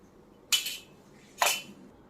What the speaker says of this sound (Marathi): आपण आता हे हाताने फेटून घ्यायचं आहे चांगलं